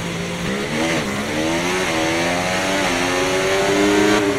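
F1 race car from the F1 24 game lapping at the Saudi Arabia Grand Prix circuit, its engine note loud and close, climbing through gears in rising revving sweeps with a brief dip in between.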